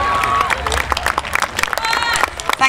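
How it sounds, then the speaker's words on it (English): Crowd at an outdoor horse show applauding a lap of honour, clapping mixed with general babble and some cheering, fairly steady and moderately loud throughout. "Round of applause."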